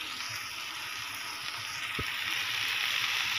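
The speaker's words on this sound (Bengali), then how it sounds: "এতে আমি ভেন্ডিগুলি দিয়ে দিয়েছি লবণ আর হলুদ দিয়ে।" Okra with salt and turmeric cooking in a pan gives a steady, close sizzling hiss that holds evenly throughout, with no talking.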